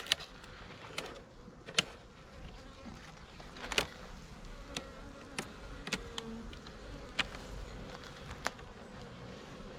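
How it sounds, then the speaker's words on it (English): Honey bees swarm around an open beehive during a honey harvest, a dense, continuous buzz close to the listener with sharp clicks and bumps throughout. "I've never been this close to this many bees before, and having them land on me."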